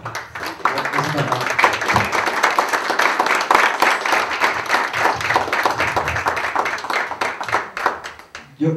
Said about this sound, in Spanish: creo que el aplauso no solo es para Carlos, el aplauso también debe ser para todos nosotros